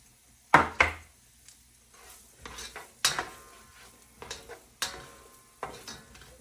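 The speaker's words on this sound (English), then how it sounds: "we've got our butter melting, and we're going to go ahead and just put our onions in the pan and get those sizzling here" Onions added to melted butter in a pan, giving sharp clattering impacts followed by soft sizzling and stirring scrapes, several distinct bursts spread across the stretch, close and fairly quiet with no voices.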